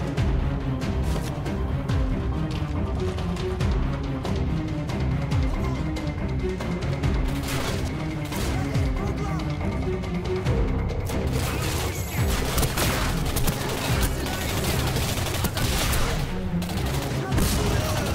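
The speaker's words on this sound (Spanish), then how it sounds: "fusil electromagnético cargado de E99 que dispara una punta explosiva" Rapid video game gunfire from an electromagnetic rifle firing explosive spikes in Singularity, with booming explosive impacts, repeated throughout over busy game sounds.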